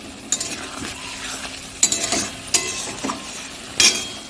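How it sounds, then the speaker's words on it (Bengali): Taro and egg curry is sautéed in oil, with a soft continuous sizzle broken by repeated scraping strokes of a spatula against the pan, several distinct stirring scrapes up close and no talking. "ওই যে কষানো হচ্ছে দেখো এটা কিন্তু চারিদিক দিয়ে বেশ একটা তেল ছাড়ছে"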